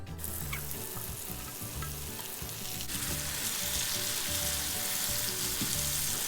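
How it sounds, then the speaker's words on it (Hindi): Mushrooms with garlic sauté in butter, seasoned with salt and black pepper, giving a steady close sizzle with scattered utensil scrapes and a faint tonal hum, growing slightly louder and brighter partway through. "अच्छे से बटर में सौटे कर लेंगे।"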